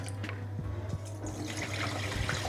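Urad dal is rinsed in water, giving close, continuous sloshing and splashing with soft trickles and drips. Nothing else is heard.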